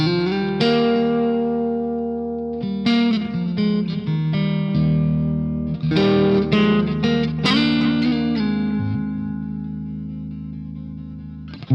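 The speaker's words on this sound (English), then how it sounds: "It's very nice and cranked up clean tone. Maybe adding some delay and reverb, we can achieve great sounding" A cranked clean electric guitar through a BT PT50 preset with delay and reverb plays chords and single notes that ring out and trail into echoing repeats, loud and alone.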